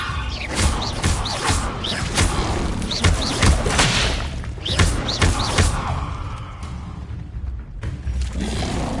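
Confringo and Levioso spells strike in Hogwarts Legacy, a rapid run of heavy booms and thuds, about a dozen close impacts in uneven bursts with short whooshing tails, easing slightly near the end.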